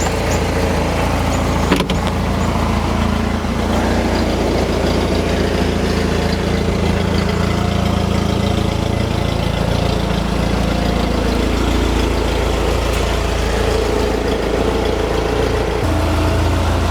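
A 1997 Jeep Wrangler TJ engine idles in a continuous, even rumble nearby, with a single brief knock early on and no talking.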